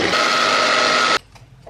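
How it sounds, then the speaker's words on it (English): A kitchen blender whirring loudly through coconut flour and nut butter, a dense steady roar that stops abruptly after about a second, leaving a quiet room. "I'm just going to blend that together really quickly"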